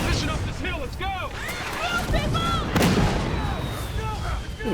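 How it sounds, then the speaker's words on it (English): Battle scene from Battlestar Galactica with loud explosions and gunfire booming under shouting voices and sweeping whistles, one heavy blast standing out midway. "Look at this actual explosions going on, too."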